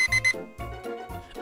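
In a Roblox Find The Simpsons school map, an alarm clock bell rings in two short repeated bursts, loud and close. Electronic tones follow in a steady rhythm.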